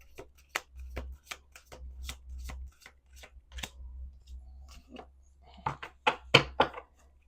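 Playing cards are shuffled in a series of sharp riffling bursts, crisp and close, with a busier cluster of shuffles near the end and faint low background rumble between them.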